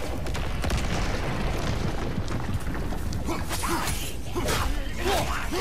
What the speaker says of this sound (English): And then explodey.